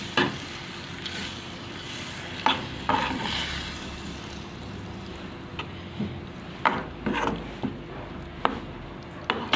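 Mashed fava beans, blended smooth, being stirred in a hot pan for a simple Egyptian breakfast, with soft scraping strokes and a steady faint sizzle, sharper clicks of the utensil against the pan recurring every second or so.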